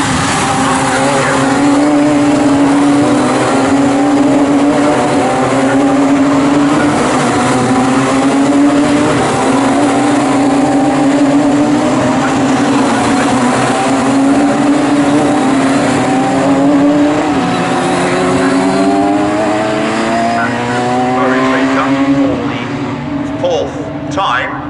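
Radical race cars circling Snetterton circuit, a loud sustained engine drone with rising and falling pitch as cars pass and shift, continuous throughout with a commentator talking over it.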